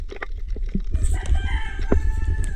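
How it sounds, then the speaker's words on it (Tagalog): A rooster crows loudly nearby, its drawn-out call rising over a constant low rumble, with a few clucks and rustles before it. "sunod-sunod na naman yung manok na yan"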